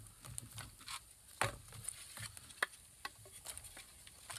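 Campfire of dry wood crackling outdoors, sparse sharp pops and snaps scattered over a faint steady hiss, fairly quiet and close, with no talking.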